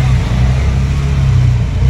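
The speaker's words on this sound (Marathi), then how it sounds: "आम्हाला रिक्षा भेटलेली आहे. आता चालू रिक्षा फिरायला आहे ना." An auto rickshaw's engine drones steadily and fairly loudly during a ride, a low continuous rumble with no break.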